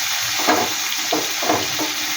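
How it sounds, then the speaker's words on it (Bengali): Chopped potato, carrot and green chilli frying in a pan give a steady, close sizzle with soft stirring pulses. "বাকি এটা একটু সামান্য আমি একটু ভাজা ভাজা করে নেব।"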